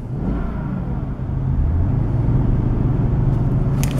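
Jaguar XK8 engine idling in neutral with an intermittent throttle fault (P0121 code), a steady low rumble with a slight rise in pitch partway through, close and continuous with no talk.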